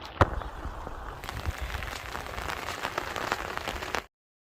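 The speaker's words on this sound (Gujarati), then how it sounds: "સવારમાં વરસાદ ચાલુ છે" Heavy morning rain pours steadily over a flooded village in Gujarat, a dense, even hiss with scattered sharper drops and one loud knock near the start, then the sound cuts off abruptly.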